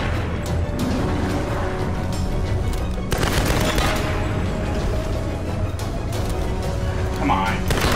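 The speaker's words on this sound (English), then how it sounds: "At least we have machine guns." Sustained automatic machine gun fire in Tomb Raider 2013, a dense continuous rattle of rounds with booming impacts mixed in, loud throughout with a brief surge partway through.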